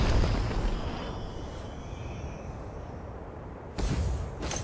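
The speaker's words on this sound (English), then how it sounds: "Your tower has been destroyed." A tower being destroyed in the mobile battle game ROV: a broad, booming explosion that rolls and fades slowly over several seconds, then a fresh blast bursts in near the end.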